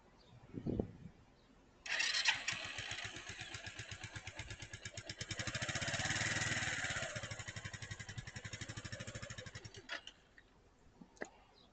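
A motorcycle engine idles low, then rises to a steady, buzzing run for several seconds as the rider lets out the clutch and pulls away, swelling in the middle before dropping off near the end.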